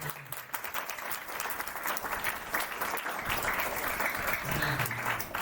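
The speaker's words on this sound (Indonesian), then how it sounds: "Tepuk tangan untuk orang tua kita." A crowd at a student orientation event in Indonesia gives steady, dense applause for the parents, sustained clapping at an even level throughout with a faint voice briefly audible beneath it.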